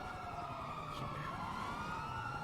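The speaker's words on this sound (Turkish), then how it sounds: "Arkadaşlar e, araç sahipleri, sürücüler e, sirenleri kapatabilir misiniz?" Police car sirens wail in a GTA role-play game, a faint, steady, rising and falling tone with a low rumble of traffic beneath it.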